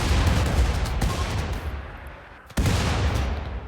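Gunfire in a RimWorld battle against a drop-pod raid, a dense, continuous crackle of shots with a brief dip and sudden resumption near the end, loud throughout.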